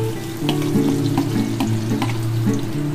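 Mustard spice paste sizzling in hot oil with melted tomato, a steady loud frying hiss with stirring scrapes throughout, close up.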